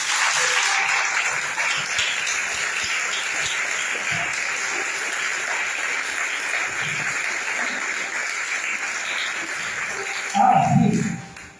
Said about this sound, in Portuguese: Dá uma salva de palmas para você.